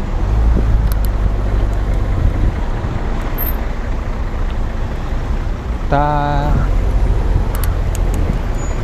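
Heavy road traffic rumbles steadily in a city street, idling engines and a nearby bus, with a short tonal horn-like blast midway and someone talking over the din.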